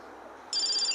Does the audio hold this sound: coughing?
no